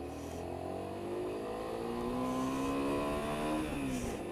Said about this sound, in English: You do have to rev this thing to get it going though.